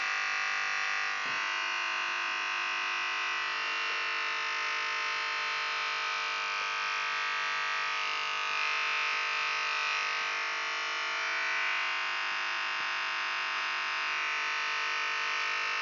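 Electric hair shaver buzzing steadily and loudly at close range during a haircut, a continuous bright whine with slight shifts in pitch as it moves.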